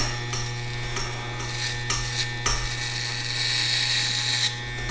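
Electric hair clippers cut hair near the back of the head, with a steady close buzzing hum broken by brief scraping bursts as the blades pass through hair.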